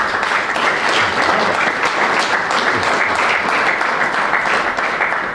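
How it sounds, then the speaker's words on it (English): A snooker final crowd breaks into loud, sustained applause, dense clapping filling the room evenly throughout without pause. "I think they deserve a fantastic round of applause."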